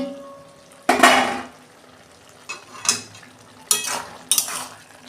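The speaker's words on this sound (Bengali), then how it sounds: "আমি ঢাকনা খুলছি" A metal lid lifted off a pot of simmering cabbage on a gas stove, giving a sharp clatter followed by a few lighter knocks and scrapes of utensils, close and clear, with no voices.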